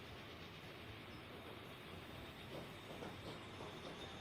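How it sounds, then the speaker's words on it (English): A freight train rolls along steadily in the video game Transport Fever 2, a constant faint rumble with light rhythmic clacking. "A freight train to Detroit, I think."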